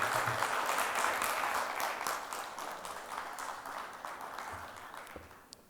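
Applause from an audience at a Chartered Accountants Day event greeting the chairman onto the stage, a dense steady clapping that fills the room and slowly tapers off toward the end.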